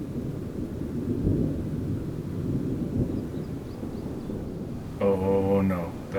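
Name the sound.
thunder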